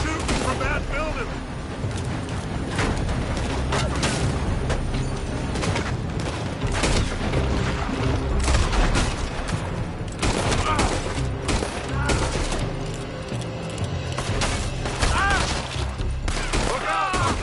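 Dense gunfire rattles in a PS4 video game battle, with sustained volleys of shots and booms filling the whole stretch loudly and continuously, layered with in-game voices.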